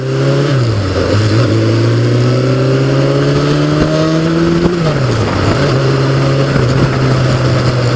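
A 1988 Yamaha FJ600 sportbike engine revs hard and close, its pitch climbing smoothly through a gear, dropping at a shift, then rising again in a continuous loud whine with no talk.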